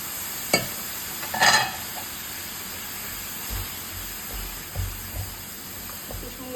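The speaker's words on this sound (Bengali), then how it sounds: "এ পর্যায়ে আমি পানি অ্যাড করে দিচ্ছি" Low sizzle and hiss as water is added to a hot frying pan, with a few sharp clanks early on and soft bubbling thumps later; no voices.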